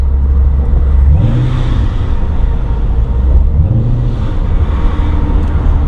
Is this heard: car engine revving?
yes